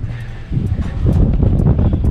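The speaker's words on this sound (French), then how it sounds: "Oh le vent!" Steady rushing wind through a tunnel holding an abandoned tunnel boring machine, with a broad low roar that swells after the first half second and holds, like a strong draught through an enclosed space.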